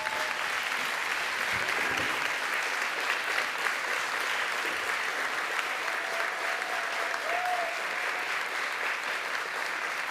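Sustained applause from a crowd at a State of the City event, honoring city staff, with steady clapping throughout and no spoken voices.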